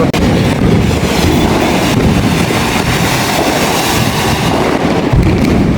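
Firecrackers and fireworks go off across a Chennai neighborhood during Diwali, a loud, continuous crackle and rumble of overlapping bursts with no pauses, heard close and without talk.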